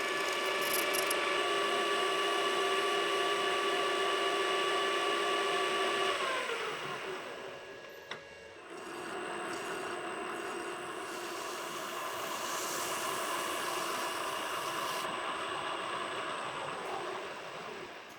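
Metal lathe turning a subtle chamfer on the shoulder of a brass ship's-wheel hardware part, a steady whirring machine drone with harmonic hum that shifts pitch partway through, continuous and close, no talking.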